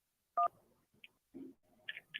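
Touch-tone dialing on a phone line sounds as several short, clear electronic beeps spaced irregularly and heard close in a quiet setting, with no talk over them.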